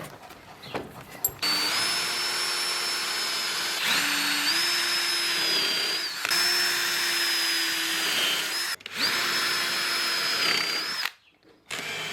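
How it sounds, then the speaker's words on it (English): A power drill drives screws into a deck in several long, loud bursts, its motor pitch dipping and rising as it bites in, with brief pauses between runs. "Let's drill and screw that in."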